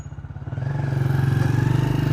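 Motorcycle riding through a busy market past roadside shoulder works, its engine rising from a low idle into a steady, pulsing drone up close, with a faint clatter in the background.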